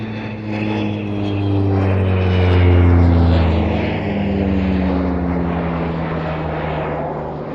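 A British Aerospace Jetstream twin turboprop flies past at a military airshow, its loud engine drone carrying strong steady propeller tones that swell toward the middle and slowly ease off, alone without talk.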